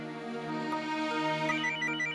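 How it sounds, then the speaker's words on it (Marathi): A telephone rings with a steady, sustained electronic tone that keeps going without pause, fairly close and alone. "सकाळपासून नुसता फोन वाजत राहतो गो."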